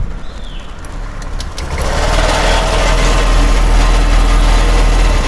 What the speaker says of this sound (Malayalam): വണ്ടി സ്റ്റാർട്ടാവുന്നുണ്ട്